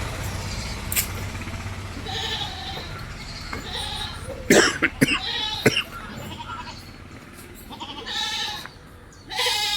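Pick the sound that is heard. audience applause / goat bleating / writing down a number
goat bleating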